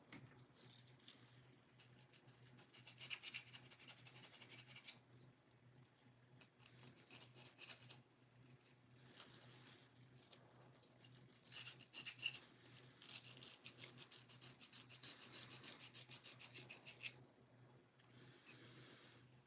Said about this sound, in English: I'm just gonna try and sand the top a little bit